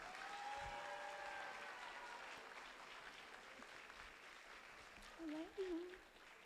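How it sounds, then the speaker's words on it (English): Faint, steady applause from a graduation ceremony audience, lasting throughout at low volume, with a brief voice surfacing near the end. "please help me give a round of applause to Ms. Shamika Tyndall."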